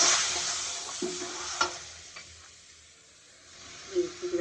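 Spices with onion, garlic and cumin paste fry in a pan while a spoon stirs, soft steady sizzle broken by a few scraping and clinking stirs, fairly quiet and close.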